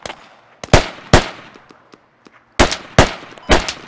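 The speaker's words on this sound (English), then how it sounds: "I'm getting shot at" Gunfire in the military shooter game Squad: six sharp, loud shots in two clusters, three close together early and three more after a short lull, each with a quick ringing tail.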